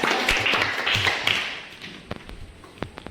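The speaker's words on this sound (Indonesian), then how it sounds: "berikan aplaus untuk kelompok 3" A classroom gives a short round of applause for a student group, moderately loud clapping that fades within about two seconds, followed by a few scattered taps.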